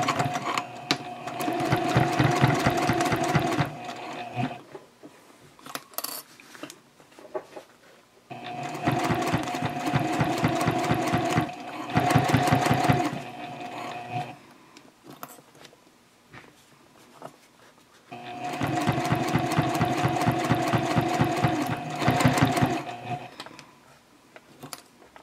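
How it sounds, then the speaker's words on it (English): A sewing machine top stitching faux binding on a project bag at a 3.0 stitch length runs in three steady bursts of rapid, even stitching, each several seconds long, separated by short pauses. "Now I'm going to do the top stitching on the faux binding."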